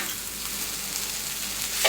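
Noodles and mushrooms sizzle in a hot pan while being stirred together, a steady close frying hiss ending in a short scrape.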